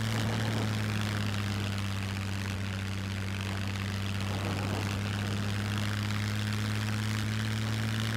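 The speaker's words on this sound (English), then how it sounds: "we've got a plane" A propeller plane's engine in the survival video game SCUM drones steadily and loudly throughout, a constant low hum with strong tonal harmonics and airy wind noise, with no talk.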